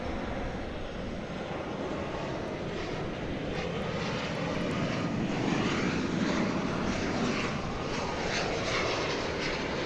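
An airliner on approach to DFW Airport makes a loud, continuous engine roar that swells slightly over about ten seconds with broad rushing noise, heard early in the morning without talk.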